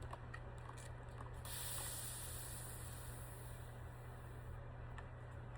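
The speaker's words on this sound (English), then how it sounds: "Yes, it mists." A small handheld mist bottle sprays a fine burst of water, a steady hiss lasting a few seconds close by over a constant low hum.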